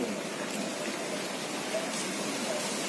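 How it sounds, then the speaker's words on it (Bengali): Heavy rain pours down during a storm, a steady dense hiss of drops on surfaces that fills the scene evenly and continuously without letting up. "প্রচণ্ড জোরে বৃষ্টি হচ্ছে এখন, আর সাথে গাছ মানে প্রচণ্ড ঝড় হচ্ছে।"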